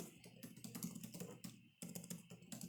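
Soft, close typing on a computer keyboard as a search is entered, a quick run of keystrokes with one short break midway.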